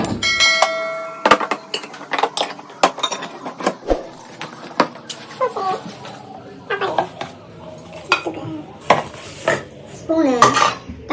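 Lunch box packing at home: containers, lids and cutlery clink and clatter in irregular bursts, close and loud, with a voice talking in between.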